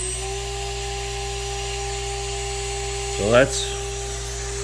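A Shapeoko Pro CNC spindle runs wide open at 24,000 RPM, a steady, unbroken motor whine with a constant hum beneath it throughout, while someone briefly speaks over it near the end.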